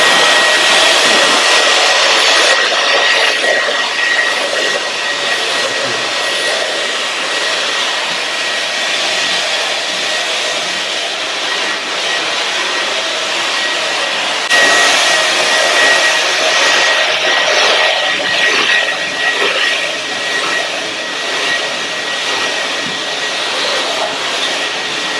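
A Dyson V11 Torque cordless vacuum running on boost mode in a pet home, a loud, steady high-pitched whirring roar that holds throughout, surging briefly partway as it pulls up fur.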